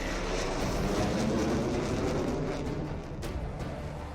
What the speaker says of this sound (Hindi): गंगा एक्सप्रेसवे पर राफेल ने भी टचडाउन किया।